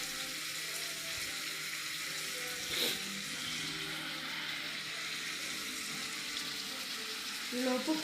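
Salted onions sauté in a pan with a constant, close frying sizzle and a few brief stirring clatters near the start and end.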